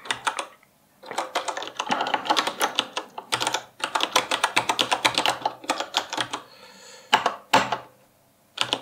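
Rapid, uneven keystrokes clatter on a computer keyboard as a shell script is typed. The bursts come in quick runs broken by short pauses, close and fairly loud, with no talking.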